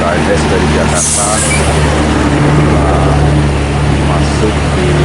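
An ANS intercity bus from Jakarta pulls into the Bareh Solok bus terminal with a steady, heavy engine drone. A brief sharp air-brake hiss comes early, and voices are heard in the background.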